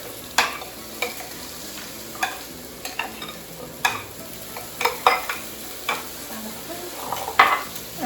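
Cooked orzo being mixed into a bean salad, a run of soft scraping and clinking utensil strokes at an uneven rhythm over a quiet background.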